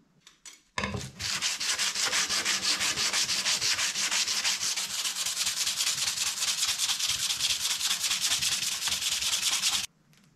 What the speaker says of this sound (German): Einfach nur noch den Rost jetzt so ein bisschen runter.